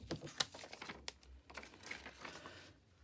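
Scissors snip around postmarks on pages cut from a stamp magazine, a series of quiet, close, irregular crisp cuts and paper rustles.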